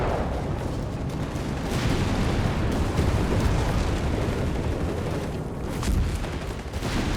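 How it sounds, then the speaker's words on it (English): A 17-pounder anti-tank gun fires on a Panther in Company of Heroes 3 amid a dense, continuous battlefield rumble of artillery and explosions, loud throughout with a heavier boom near the end. "And there goes 17-pounder gun, gets off a good hit on the Panther 4."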